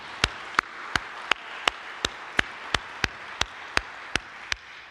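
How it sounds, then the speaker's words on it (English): A single person claps steadily at a church gathering after race results, about a dozen crisp, evenly spaced claps at moderate volume, standing alone with no talk. "So let's give them a round of applause, please"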